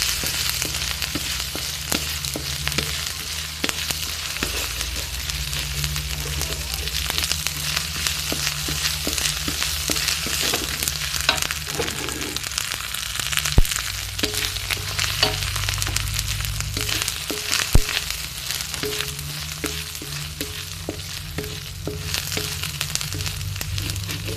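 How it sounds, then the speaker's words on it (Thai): Curry paste stir-fried in a pan for a Thai fish jungle curry, a constant loud sizzle with frequent clicks and scrapes of the spatula, no speech throughout. "ผัดพริกแกงให้หอมเลยนะคะ"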